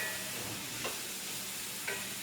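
Mushrooms sweat and sizzle in a pan with onions, a steady close hiss broken by two brief clicks of stirring.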